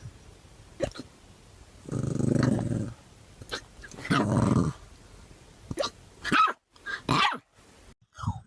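White dog growling and barking at close range, with two long rumbling growls followed by a quick series of short, sharp barks and yips toward the end.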